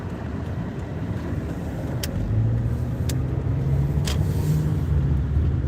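A car drives along a road, its steady engine and tyre rumble filling the interior, with a low drone rising slightly midway and a few faint clicks, no talking.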